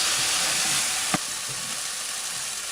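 Steady, close sizzling and hissing of onions and tomato paste frying in a hot pan, with a brief clink of a utensil partway through.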